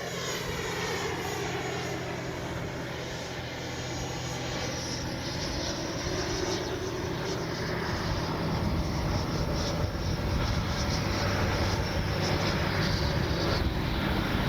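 An FMS Avanti S 90mm electric ducted-fan RC jet, 18th anniversary edition on its maiden flight, roars steadily at about half throttle as it passes overhead outdoors, a continuous loud whine that swells slightly louder midway, with no talking.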